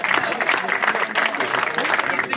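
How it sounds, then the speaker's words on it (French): Applause at an award ceremony in a French regional Heritage World Cup final, a burst of clapping from the audience running steadily under a voice speaking over it. "Tonnerre d'applaudissements."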